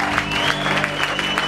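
Audience applause at a live concert at Ghost House, dense steady clapping from a crowd with sustained background tones, no talk over it.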